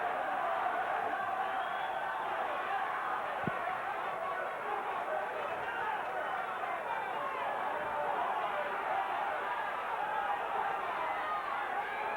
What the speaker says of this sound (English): Crowd is chanting, Marlon, Marlon.